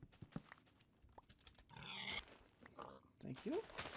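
Pigs in the video game Minecraft make a few short oinks and grunts, quiet and close, mixed with soft game sounds and brief talk.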